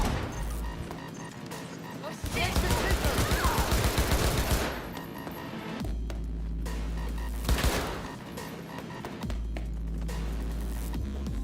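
Gunfire in Cyberpunk 2077: bursts of rapid, crackling shots and impacts alternate with pauses over a heavy low rumble, the firing dense around the middle and again briefly later, while a voice talks at points.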